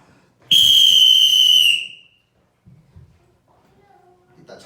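A sharp, loud whistle blast lasting about a second and a half in a church setting, followed by quiet with faint thumps and a soft tone.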